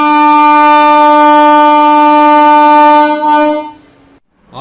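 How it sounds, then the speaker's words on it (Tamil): A loud, sustained train horn blares steadily for about three seconds at Hosur station, then wavers and cuts off, leaving near silence. "அதுக்குள்ள ஹாரன் கொடுத்துட்டாங்க,"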